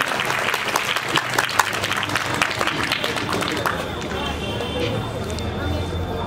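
Many hands clap at a prize-giving during a Hindu Gita Jayanti festival, sharp distinct claps over a busy crowd, with a voice speaking through the noise before the clapping settles into a softer, steadier patter.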